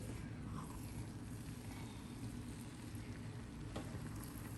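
Chicken tikka biryani being stirred in a small pot: a dense, steady sizzle and churning scrape that runs without pause at an even, loud level throughout, with no one talking.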